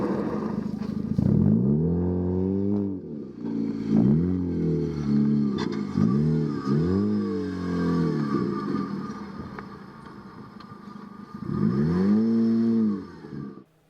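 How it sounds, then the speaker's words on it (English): Ford Fiesta rally car with a small engine on a gravel stage at the Speyside stages, repeatedly revving hard then dropping pitch as it brakes late, several loud rising-and-falling engine sweeps passing close. "Trying to keep the momentum up with their small engine, they were leaving their braking until the very last second."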